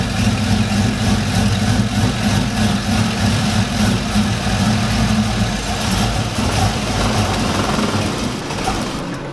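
A Chevrolet Silverado pickup's engine idles with the fuel pump fuse pulled, a steady, close, low rumble with a fast rhythmic chatter that runs on unchanged before fading slightly at the end as it starves.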